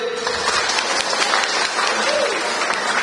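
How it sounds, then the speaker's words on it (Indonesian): Audience applause at a farmers' dialogue event in Wonosobo, a steady wash of clapping from a crowd lasting the whole moment, with faint voices mixed in. "Kita berikan aplaus untuk Pak Tatip."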